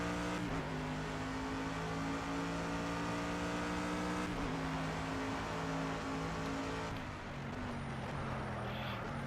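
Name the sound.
race car engine accelerating in the video game Project CARS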